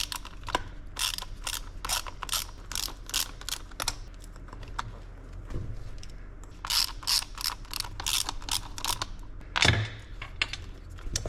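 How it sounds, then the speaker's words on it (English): Small Torx screws being backed out of the steering wheel button modules on a fourth-generation Firebird Trans Am or Camaro, with close, rapid ratcheting clicks in bursts and a few brief clunks of handling. "we're gonna step down to these smaller Torx heads and remove all 4 of them"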